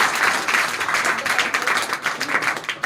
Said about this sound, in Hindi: इनके लिए जोरदार ताली लगाइए।